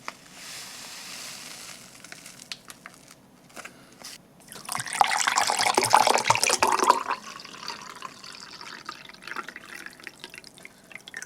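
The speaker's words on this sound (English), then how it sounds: "Going to mix it up with about 300 ml of water using the C1A1 chopstick here." Orange drink powder being stirred into about 300 ml of water with a chopstick while preparing a Chinese army ration, soft watery swishing and clinking that builds to a louder burst of agitation midway, then tapers off.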